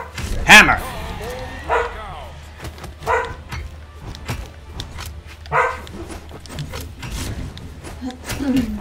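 A dog barks and yips several times nearby at irregular intervals, with a few short whimpering sounds between the barks.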